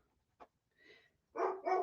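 A pet dog at home barks indoors: one short yip, a softer whining bark, then two loud, close barks in quick succession, with no talk.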